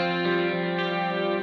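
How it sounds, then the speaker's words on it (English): An electric guitar rings out a single sustained, sparkly clean chord through a Fractal VP4 effects unit, bright and shimmering with a light chorus-like texture, heard alone. "that real sparkly session kind of clean tone"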